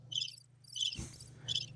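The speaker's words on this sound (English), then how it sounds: "I'm playing the cricket noise." Cricket chirping sound effect played on a podcast: three short bursts of high chirps at an even pace over a low hum, with a brief thump in between.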